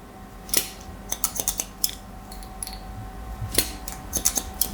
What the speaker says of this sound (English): We've got our guide from either side, and we just trim.